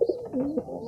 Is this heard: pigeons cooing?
yes